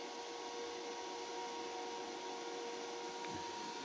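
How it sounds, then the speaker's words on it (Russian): Small fans inside a homemade meat-drying box for cured pork loin run with a steady, even electric whir and a faint tonal hum, constant and close, with no speech. "Видно, как вентилятор один крутится?"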